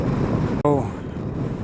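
Wind rushing past a rider on a bagger motorcycle on the road, a steady low buffeting roar that drops out briefly while a voice cuts in, then resumes.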